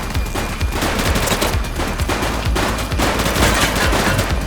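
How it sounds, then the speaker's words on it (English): Gunfire from a police shootout in the video game The Precinct: dense, continuous rapid shots, loud and sustained throughout with no pauses. "Shots fired!"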